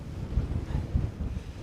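Cold mountain wind buffets the microphone in low, uneven gusts, a close rumbling roar with no voices over the short stretch.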